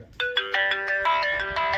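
A phone ringtone plays a bright electronic melody of quick repeated notes, loud and close, with no voices.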